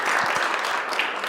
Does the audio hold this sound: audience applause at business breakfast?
yes